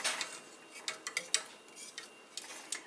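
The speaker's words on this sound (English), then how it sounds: "Stir it good, Mimi." A utensil scrapes and clinks against a pot while chocolate pie filling is stirred on the stove, producing irregular light taps and scrapes close by, with no talking.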